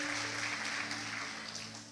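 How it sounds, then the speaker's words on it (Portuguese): Faint applause from a church congregation, a soft steady patter of many hands held under a low sustained hum for about two seconds. "Uma salva de palmas pela vida da projeção."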